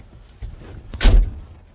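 A single solid thunk of a Triumph Herald 13/60's self-closing car door shutting, preceded by a softer knock, in an otherwise quiet interior.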